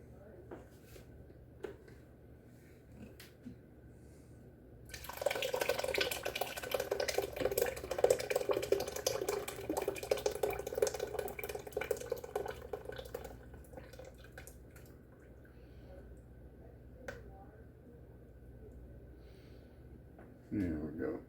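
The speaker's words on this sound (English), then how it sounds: "We'll go ahead and pour it into the chicken stock." Liquid pours steadily into a pot of chicken stock for creamy roasted tomato soup, a sustained splashing pour lasting about fifteen seconds, with a brief clatter near the end.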